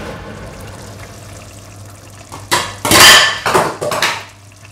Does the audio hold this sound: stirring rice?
yes